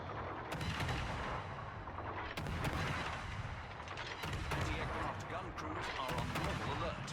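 Naval guns from a warship in a combat video game boom in repeated heavy salvos over a dense, constant roar of battle, with a voice talking over the action.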